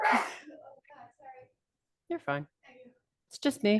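A single sharp sneeze bursts out at the very start, close and loud, followed by a few quiet spoken words from another person during an online meeting.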